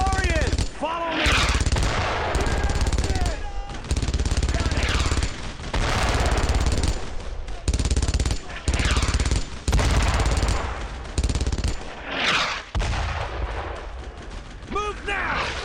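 Heavy MG-42 machine gun fire in the WWII shooter Brothers in Arms, with sustained bursts and explosions against German paratroopers, dense and loud, and shouted voices over the din.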